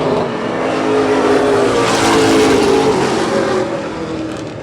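Race cars roar around an oval track in a late-season event, a loud continuous engine drone that swells as the field passes and then fades slightly.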